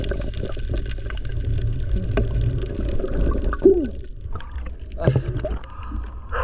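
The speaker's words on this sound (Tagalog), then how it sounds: "sa sobrang galaw nga ng tubig, sobrang lakas ng alon" Rough, choppy sea water with strong waves sloshing and splashing close by during a fishing outing, a continuous churning with sharper splashes partway through.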